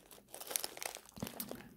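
A small plastic bag of glass seed beads crinkles and rustles in close, quiet, irregular handling.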